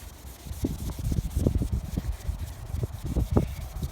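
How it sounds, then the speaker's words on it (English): A cloth rubs back and forth over exposed color base coat on a car's paint, giving a steady close-up scrubbing sound in rhythmic strokes, with no talking. "I'm just gonna clean it, not wax it. Just gonna go back and forth and clean that spot."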